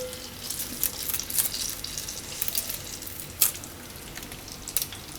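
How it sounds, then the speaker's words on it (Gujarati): Stuffed parwal (pointed gourd) koftas fry in hot oil in a pan, giving a soft continuous sizzle with scattered sharp crackles and pops close by. No one speaks. "તો આપણે આટલા તરી લીધા છે ને 1 ઘાણવો થાય છે"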